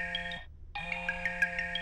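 A cartoon mobile phone ringtone plays loud and melodic, breaking off briefly at mid-clip before resuming as a bright, steady repeating tone with no talk over it.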